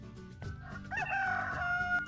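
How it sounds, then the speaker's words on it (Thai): A rooster crows once, loud and close, in a long drawn-out cock-a-doodle-doo with faint clucking and other farm-bird sounds around it and no talking. "เอาเสียงไก่ไปด้วยนะครับ"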